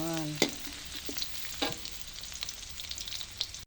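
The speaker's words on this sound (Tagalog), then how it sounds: "igigisa po muna natin ang bawang" Garlic sautéing in a pan, quiet sizzling and frying crackle with a few clinks of stirring near the start, faint and close, no voices.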